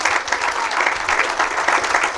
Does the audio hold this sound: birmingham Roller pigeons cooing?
no